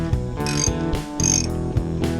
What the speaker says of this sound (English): Then you can remove the castle nut using a